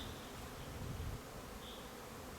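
A dense, steady buzzing of many honey bees close by at a hive in an apiary in May, a continuous droning hum with no voices.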